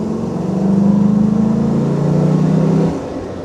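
A Land Rover Defender D110 soft-top accelerates in a loud, close engine drone whose pitch climbs steadily, then drops as the revs ease off.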